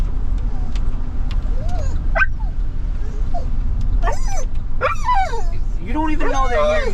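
A dog whines and yips excitedly in short, rising squeals over a steady low engine hum, growing more insistent toward the end.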